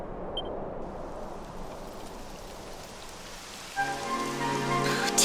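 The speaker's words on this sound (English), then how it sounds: "It would have to go and start raining, wouldn't it?" Steady rain in the video game Dragon Quest XI S patters on a surface, a dense hiss of drops, joined near the end by a tonal hum.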